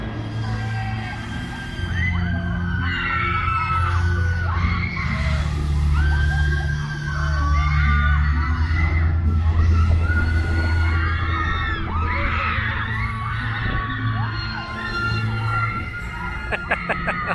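Riders screaming on the Rush giant swing ride at Thorpe Park, a crowd of shrill screams rising and falling in waves over a steady low mechanical hum.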